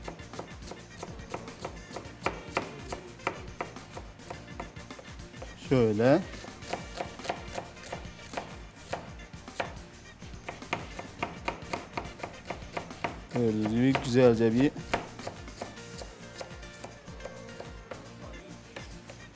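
Rapid, steady knife chopping of an onion on a cutting board, a quick stream of taps running throughout, with a person talking over it.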